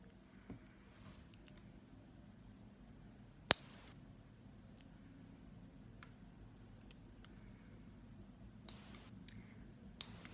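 Scissors trim excess Jamberry nail wrap in a few sparse, quiet snips, isolated sharp clicks spaced seconds apart over a low, steady room hush.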